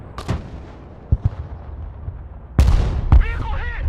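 PzH 2000 self-propelled howitzers firing in the video game Broken Arrow: a few sharp distant booms early, then a heavy loud blast at the end with a rumbling tail, while game radio voices are heard.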